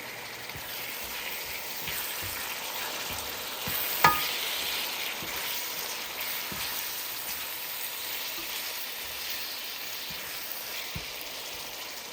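Onion and tomato sautéing in a pan for ginisang sitaw, a faint steady sizzle with light crackles and a sharp clink of a utensil near the start, quiet and uninterrupted.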